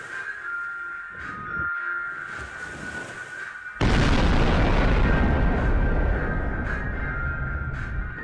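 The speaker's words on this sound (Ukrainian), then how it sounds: "Пролітаєте над місцем, де повинен бути бабай-бабух, і скидаєте. Придбану вами ядерну бомбу." A nuclear bomb dropped from a plane in Garry's Mod goes off with a sudden, massive blast that roars on loudly and steadily after a low hum, with no voices.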